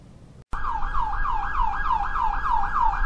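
After a brief silence, a loud emergency siren starts wailing in a steady, rapidly rising and falling cycle, close by and sustained.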